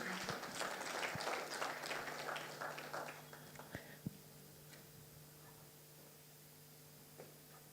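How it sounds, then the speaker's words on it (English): A conference audience applauds the panelists as they are called up. The clapping is moderate and fades over a few seconds. A few scattered claps and knocks follow, and then a quiet room hum remains. "please give them a round of applause."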